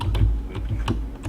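Keys on a mechanical computer keyboard clack in quick, uneven taps at close range, about five distinct strikes in a brief burst.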